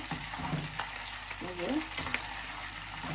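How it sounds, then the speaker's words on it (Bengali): Butter heats in a pan to become ghee, giving a quiet, even bubbling sizzle close by with a few faint scrapes and clicks. "বাটারটা গরম জাল দিয়ে ঘি তৈরি করে"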